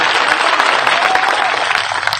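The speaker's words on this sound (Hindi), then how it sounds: "जरा तालियां बजाकर सुकांत का स्वागत करें।" An audience at a BJP political event in West Bengal applauds to welcome a speaker. The clapping is dense and continuous and stays loud for the whole moment.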